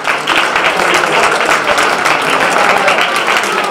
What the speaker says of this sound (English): let's hear a round of applause for these people here